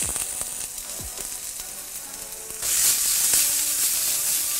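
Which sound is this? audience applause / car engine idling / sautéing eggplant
sautéing eggplant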